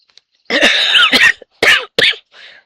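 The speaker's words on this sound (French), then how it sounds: "ça va être pénible si je tousse aujourd'hui" A woman indoors in a cottage coughs in a close, harsh fit: a long raspy run of coughs, then two sharp bursts and a faint throat-clearing trail.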